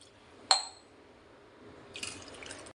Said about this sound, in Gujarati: તો તેમાં હવે આપણે નાખી દઈશું પાણી